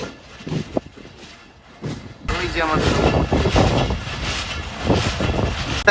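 A local passenger train on the Rohanpur to Rajshahi line, a loud rumbling run with rattling carriages that starts abruptly after a quiet stretch and continues steadily, with a few spoken words early on.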